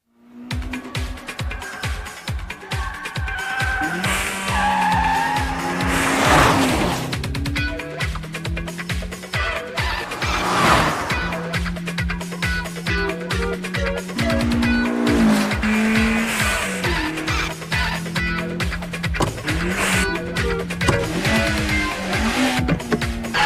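Racing cars in an anime street chase roar at full throttle, with a continuous loud engine drone, rising and falling revs and repeated tire squeals throughout.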